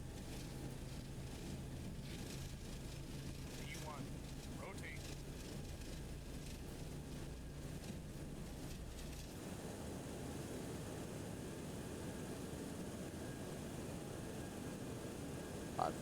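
A FlyJSim Boeing 727 rolls down the runway on its takeoff run in X-Plane 11, a steady broadband engine and wind roar holding constant throughout, with a slight tonal shift partway through and faint chatter over it.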